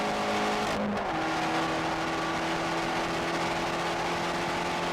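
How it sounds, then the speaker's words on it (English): A Fiat Abarth's small turbocharged engine revs up under load, its raspy exhaust note steady and loud, rising in pitch after a short gear change. "because of this exhaust note, you want to nail your heel toe just so you can hear yourself blip the throttle"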